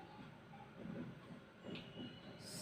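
A train runs steadily as a sound effect in a children's rhyme, its rumbling rail noise and wheel clatter filling the short stretch at an even, close, moderately loud level with a brief higher squeal near the end.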